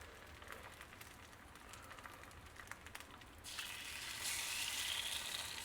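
Eggs frying in an oiled cast-iron pan give a steady, close crackling sizzle that swells and grows denser partway through, with no voices.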